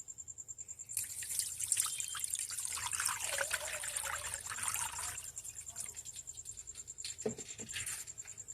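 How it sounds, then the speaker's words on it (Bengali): Water is poured into a pan for boiling potatoes, a steady close trickle and splash that runs for several seconds over a faint constant background hum, then tapers off. "প্রথমে আমি একটা প্যানের মধ্যে পানি দিয়ে দিব"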